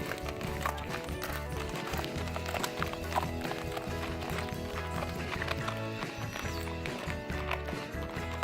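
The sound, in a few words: horses being led, hooves clopping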